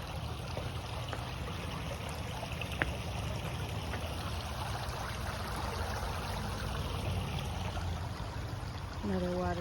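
Steady flowing water from a stream, a continuous rushing wash with a faint trickle running throughout, fairly close and unbroken.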